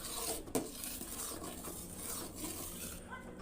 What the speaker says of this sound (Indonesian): Kemudian kita aduk-aduk sebentar.